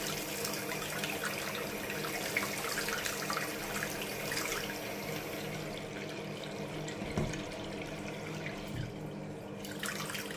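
Steady broadband hiss of water running from a bathroom tap in a cheap one-bedroom apartment in Blackpool, continuous and fairly close, with no talk.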